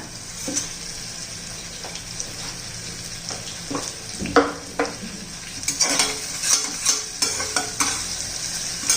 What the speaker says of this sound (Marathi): आता आपण हिंग घालूया.